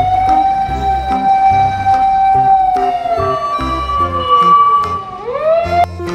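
A toy fire truck siren wails in a steady electronic tone, pitch sliding and warbling, with rhythmic beeping and jingly toy sounds underneath.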